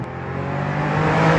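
A Porsche 911's rear-mounted flat-six engine revs under hard acceleration, a loud, steady raspy drone that builds slightly in volume as the car pulls away.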